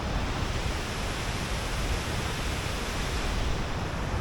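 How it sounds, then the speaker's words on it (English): Raging river at Caples Creek, California, in 2023: a loud, steady broadband rush of churning water fills the whole span without a break, close and continuous, with no voices over it. "enjoying this amazing sight of a river"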